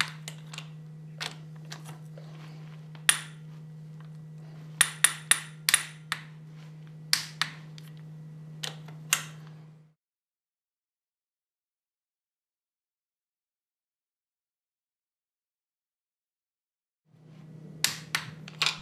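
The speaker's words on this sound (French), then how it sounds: "Vous faites ceci jusqu'à entendre le clic de la clé dynamométrique." Sharp clicks from a torque wrench tightening the cylinder head bolts on a café racer motorcycle engine, a dozen irregular metallic snaps over a low hum, followed by silence and then more clicks.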